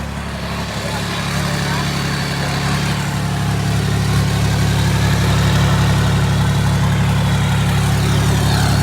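A loud, steady John Deere 4020 diesel tractor engine runs close by, its deep rumble building slightly over the clip with no pauses.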